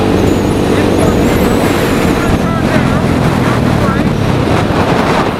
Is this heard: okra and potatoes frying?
no